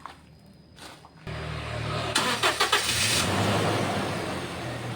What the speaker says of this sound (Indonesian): mesin kita nyalakan